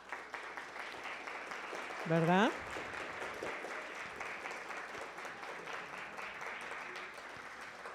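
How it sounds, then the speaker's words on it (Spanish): Moderate applause from an audience at a school presentation about the sea and the economy, with a voice briefly rising over the clapping early on before the applause carries on steadily. "me gustaría mucho ofrecerles un gran aplauso a nuestros compañeros"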